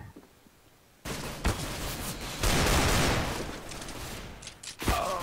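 Gunfire in the CS:GO video game: after a quiet opening, a close, loud barrage of rapid shots bursts in, swells into a dense volley, then fades before a few final sharp reports.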